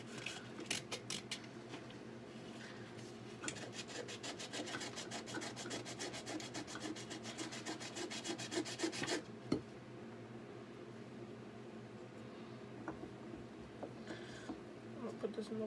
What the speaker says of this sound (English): I'm going to get that sandpaper. Just get the edges.